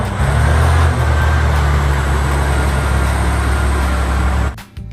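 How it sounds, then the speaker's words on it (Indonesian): A radio-controlled mining dump truck drives with a steady, loud motor hum and drone that holds evenly for several seconds, then cuts off abruptly near the end. "Yang ini truk tambang."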